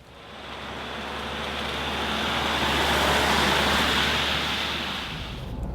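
A 2017 Ford Ranger Wildtrak with the 3.2 liter diesel engine on the move, heard as a broad, steady road and engine roar that builds gradually, peaks midway and then fades slightly.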